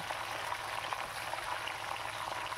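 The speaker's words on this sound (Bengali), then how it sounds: "সব কটা শিমই আমি দিয়ে দিচ্ছি, দিয়ে আমি নাড়িয়ে চাড়িয়ে কিন্তু ভালো করে ভেজে নেব" Flat beans (shim) frying in a pan for a vegetarian mustard dish, a steady close hiss and crackle of oil sizzling evenly without pause.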